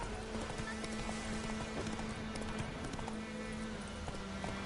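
Horse galloping in the video game The Witcher 3: Wild Hunt, a quick, steady clip-clop of hoofbeats throughout, moderately loud and continuous.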